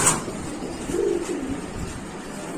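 Pigeon in a pigeon shop giving a soft, low coo at close range, with a faint chirp at the very start over steady room noise.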